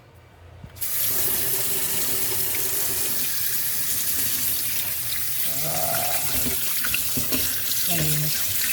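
Running tap water pours steadily into a sink as pork is washed under it, a continuous close splashing with some faint handling clunks along the way.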